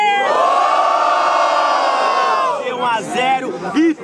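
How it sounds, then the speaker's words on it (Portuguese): A rap battle crowd at a student freestyle final roars and cheers loudly for several seconds, a dense wall of shouting voices that thins into scattered whoops and yells near the end. "barulhos pra quem gostou das rimas do QRZ"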